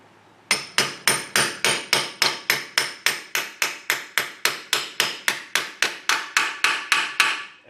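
Steel seal driver hammered steadily to seat a Ford 9 inch rear axle seal: about twenty-two sharp, evenly spaced metallic blows, loud and close, with no talking.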